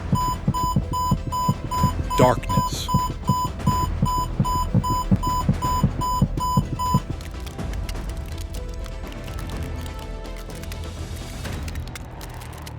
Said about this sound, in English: The monitors beep loudly.